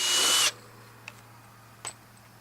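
A power drill set to screw mode drives screws into an old trailer, giving one loud, steady whir for about half a second, then a couple of faint clicks and a short scrape against a quiet background hum.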